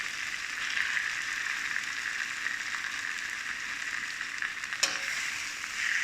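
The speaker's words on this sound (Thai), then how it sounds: "หอมแล้วเดี๋ยวเอาอีกุ้งที่เราทำไว้ครับใส่ลงไปเลย" Shrimp stir-frying in a pan with shrimp paste, a steady close sizzle of frying with no talk, broken by a brief clatter near the end.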